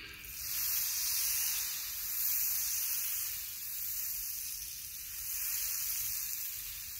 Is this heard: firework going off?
no